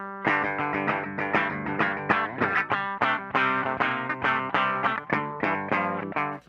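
A Schecter C-7 FR SLS Elite seven-string electric guitar played through its bridge pickup with heavy distortion and a chorus effect, fast rhythmic riffing of loud, chugging chords, heard alone without talking.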